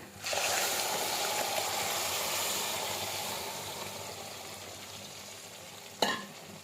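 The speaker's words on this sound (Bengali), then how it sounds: "শুকনো লঙ্কা রসুন দিয়ে যে টমেটোর পেস্টটা বানিয়েছিলাম সেটা কড়াইয়ের মধ্যে ঢেলে দিতে হবে" A tomato, dried chilli and garlic paste is poured into a hot wok, setting off a loud sizzling rush that gradually fades to a softer bubbling, with a brief clink of utensil near the end.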